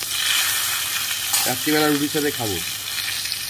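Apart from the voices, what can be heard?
small eggplant pieces frying in oil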